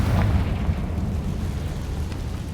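A Confringo fire spell explodes in the Hogwarts Legacy video game with a loud, deep blast that fades into a sustained low rumble and crackle, with no one talking over it.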